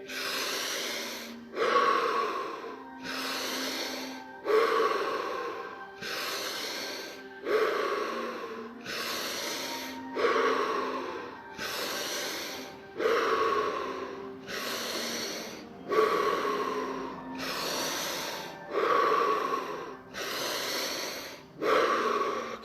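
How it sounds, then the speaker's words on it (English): During guided breathwork, someone breathes deeply in and out through the mouth in a long, steady series of loud, close breaths, each cycle lasting about a second and a half, with no voice over them. "Breathing in through the mouth, out through the mouth, breathing from the diaphragm."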